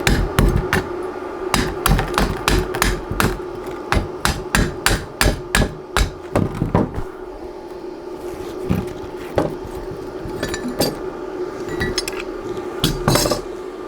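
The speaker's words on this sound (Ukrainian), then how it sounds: "Відбиваємо шлак, дивимось на наші шви, що нам вдалося тут наводити." A hammer chips slag off arc-welded electrode seams in a series of sharp metallic knocks, quick and close at first, then sparser taps and light scraping.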